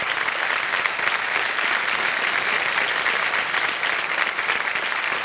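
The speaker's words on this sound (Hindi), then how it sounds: "ताली बज जाए इनके लिए" Studio audience applause on the KBC game show, a steady, dense wash of clapping that stays loud and even throughout without a break.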